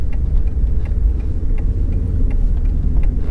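A 1998 Volkswagen Passat 2.3 VR5 Tiptronic idles, a steady low engine rumble humming evenly throughout, with faint periodic ticking on top and no voices.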